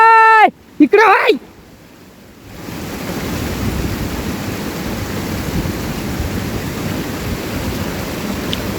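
Loud, steady rushing of water at a dam, a broad continuous roar that swells in after a brief burst of voices at the start and then fills the rest uninterrupted.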